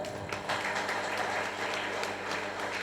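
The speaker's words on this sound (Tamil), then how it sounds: "எல்லாரும் நல்லா கைத்தட்டலாங்களா?" A crowd at an annual celebration of a Tamil association claps together in a steady, dense burst that fills the whole stretch, fairly close and loud, with no talking over it.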